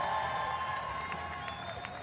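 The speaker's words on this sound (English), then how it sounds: "the crowd is trying to egg him on to maybe go after the next one" A crowd applauding and cheering at the Thor's hammer event of the Rogue Invitational 2021, steady clapping and cheering in a large venue with ringing tones over it.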